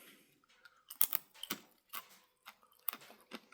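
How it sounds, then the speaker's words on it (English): Crisp crunches of someone biting and chewing oven-dried apple chips, a series of sharp, close bites and cracks spaced irregularly amid near silence. "Can you guys hear that crunch?"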